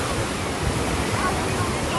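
Sea waves rolling onto the beach at Anapa, a steady broadband wash of surf and wind noise lasting throughout, fairly loud and close with no clear individual breaks.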